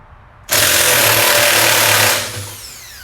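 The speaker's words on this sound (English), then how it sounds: "First, we have to get this nut off, and to do that I use the impact." An impact wrench removes a nut from a car's rear trailing arm, hammering loudly and close-up in one continuous burst for about a second and a half before stopping and ringing out.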